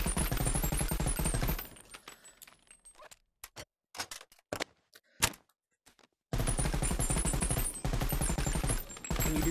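Rapid automatic fire from the BO3 Dingo light machine gun in the VR game Bonelab: loud, dense sustained bursts at the start and end, with scattered shorter shots and pauses in between.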